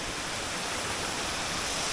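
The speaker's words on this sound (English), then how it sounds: "And there's another waterfall I didn't notice just over there." A small waterfall pours in a winter outdoor setting, a dense, even rush of falling water that stays steady and fairly close for the whole moment.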